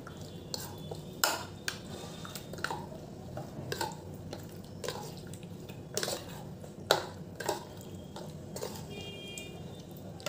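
Chicken and an egg are stirred together in a bowl, and a spoon clinks and scrapes against the sides in irregular bursts, close and fairly quiet, with soft wet squishing between the knocks.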